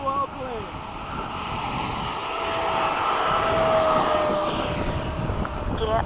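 A P-51 propeller aircraft engine during takeoff, a steady loud droning roar with a sustained tone that swells gradually and holds near.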